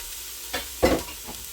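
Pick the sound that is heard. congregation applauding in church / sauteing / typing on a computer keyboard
sauteing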